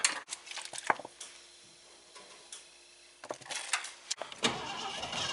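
A 1978 Mercury Marquis engine cranks in uneven bursts and catches briefly, sputtering and barely running on little fuel, with clicks and knocks mixed in.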